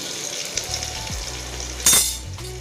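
Tempering for sambar rice, with curry leaves, urad dal and crushed ginger frying in hot oil in a pan, gives a close, steady sizzle with a sharp utensil clink and a brief burst of louder crackling.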